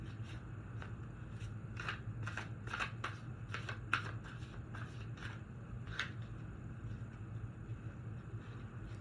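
Tarot cards riffle and slap together in a quiet room during a steady shuffle, soft repeated flicks and brushes over a low background hum, with no voices.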